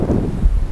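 Strong wind buffeting the microphone outdoors on a disc golf course in high winds, a brief, loud low-frequency rumble with no talking.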